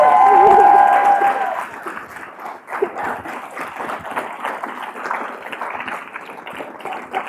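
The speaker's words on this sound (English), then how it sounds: "Another round of applause for Sam." A conference audience breaks into loud applause after a talk on crafting a connected home; the clapping stays dense and sustained, and a brief tone and voice sit at the very start.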